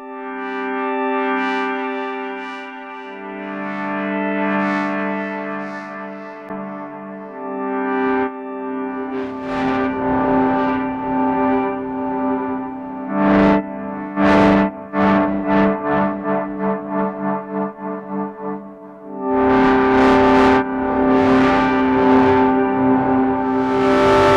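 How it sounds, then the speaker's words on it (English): Electric guitar through a Walrus Audio Melee pedal in its reverse delay mode with feedback, playing sustained chords that swell backward, then a run of rhythmic stabs and repeating echoes, closing in a bright wash of reverse trails, with no talking. "the reverse delay with feedback."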